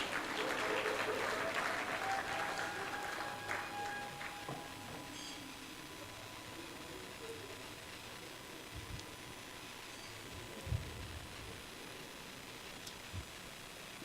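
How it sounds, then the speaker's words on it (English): Crowd applause at a national day of tribute for the late Chief Mbazulike Amechi, loudest over the first few seconds and then thinning to a softer patter of scattered clapping, with some voices underneath. "Please give him another round of applause."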